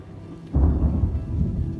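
A sudden rumble of thunder rolls through the Corsican mountains near Col de Verde, a deep low boom that breaks out of quiet and lingers as a heavy, drawn-out roar.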